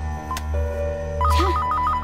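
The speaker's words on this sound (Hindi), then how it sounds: "किसका फोन है?" A telephone rings with a loud, rapidly warbling electronic trill, close by, over a low steady hum, with no one speaking.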